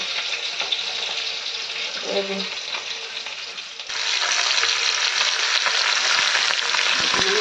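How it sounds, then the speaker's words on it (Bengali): Fish frying in a pan at home, a constant hiss of hot oil that swells louder partway through, with faint background noises and no talk. "ভাজা হচ্ছে"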